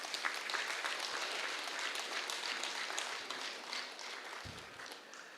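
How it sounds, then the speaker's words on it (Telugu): Audience applause for the Pyramid Masters at a spiritual meditation gathering, a steady wash of many hands clapping throughout, moderately distant and fading slightly toward the end. "పిరమిడ్ మాస్టర్స్ అందరికీ ఒకసారి గేట్ క్లాప్స్ కొడదాం"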